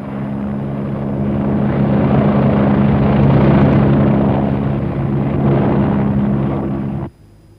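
A British Army Scout AH Mk 1 military helicopter roars steadily overhead with a loud, thudding rotor drone that holds for several seconds before cutting off abruptly.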